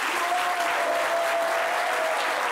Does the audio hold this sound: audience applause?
yes